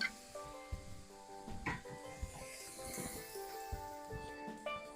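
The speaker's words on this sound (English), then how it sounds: "we're going to cook this uncovered for the moment until the onions turn golden brown" Onions sizzle and fry uncovered in a pan for veal paprikash, a steady crackling hiss with occasional stirring scrapes and clinks, close and moderately loud, with no voices.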